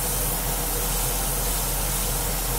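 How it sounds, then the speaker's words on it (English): Close, steady hiss of water spraying from a hose or sprayer while rinsing foam off, a continuous broadband rush with no pauses. "we're just trying to spray it off"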